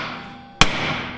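A single loud metallic bang rings out as a hammer strikes the rear brake drum of an old rotary pickup truck outdoors in freezing weather, over a steady background roar.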